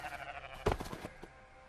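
A sheep gives a single short, fairly close bleat over quiet background, in a mountain setting where shepherd dogs guard the flock against wolves.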